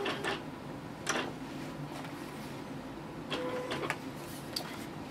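A Silhouette cutting machine runs a test cut on smooth heat transfer vinyl, giving a close mechanical whir with several short bursts of carriage movement and ticking clicks, no talking.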